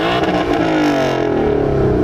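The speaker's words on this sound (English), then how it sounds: "Just a little red line for you all." A 2018 Ford Mustang GT V8 revs hard toward redline, the loud, close engine note climbing in a rising, harmonic roar over about two seconds.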